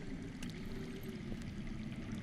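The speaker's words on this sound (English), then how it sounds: "I hear water. From underground." Water flowing underground in the Game of Thrones video game, a continuous low rushing and gurgling stream, steady and fairly soft, with no voices.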